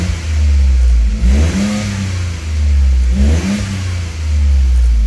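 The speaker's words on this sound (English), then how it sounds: "And let's rev a little." Toyota GR Corolla with a newly installed intake, engine revved loudly twice from idle, each blip rising sharply and falling back to a steady, close rumble.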